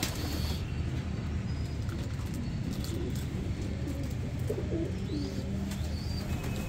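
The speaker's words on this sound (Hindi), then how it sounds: "वैसे ये मेरा बड़ा फेवरेट कबूतर है" Pigeons in a loft coo softly amid a dense, steady background rumble, the low calls faint and intermittent, with no talking.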